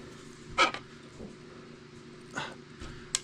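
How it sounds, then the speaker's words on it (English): Dogs indoors bark and yelp in short, separate outbursts, with a softer whimper between them, fairly near over a quiet background. "not hear my dogs freaking out"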